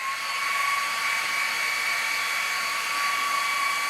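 Faulty IKEA electric fan blowing strong and cold, a steady close whooshing airflow with a constant high whine; the on-off cycling is not evident within this short stretch.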